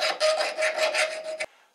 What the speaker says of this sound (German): Immer zart mit einer Feile drüber.